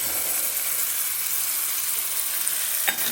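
Ground spice paste hits a pan of frying raw papaya and sizzles steadily and loudly throughout, a continuous close crackle with a brief sharp scrape near the end.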